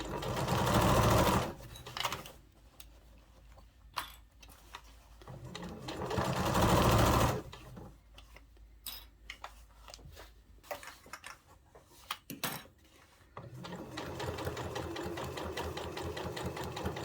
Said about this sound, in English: And sew all the way to the end.